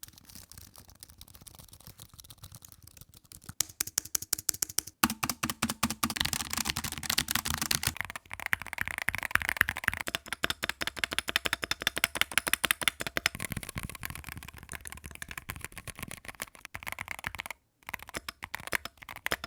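Rapid clacking of mechanical keyboards being typed on in several bursts, each set of keys sounding slightly different, close up with no talking.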